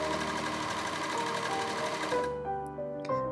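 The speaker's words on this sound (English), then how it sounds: "Now I can finally and carefully serge these edges." A serger overlocks the fabric edges of a pinafore with a steady, fast mechanical whir and rapid stitching chatter, close and even, then stops and the motor winds down into a few light clicks, with no talk.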